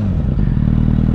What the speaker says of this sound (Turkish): size ufak bir ara gazı çekeyim. Egzoz sesini göstereyim.